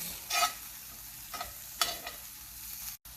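Sausages seasoned with onion powder and black pepper are stirred in a skillet, a steady sizzle with a few scraping strokes of the spoon, loud and close, with no talking.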